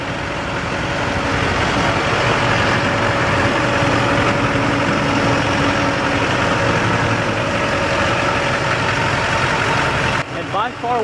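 A 2006 Hummer H1 Alpha Passenger Wagon idles with a steady, loud diesel rumble and exhaust drone, constant throughout before a brief dip near the end.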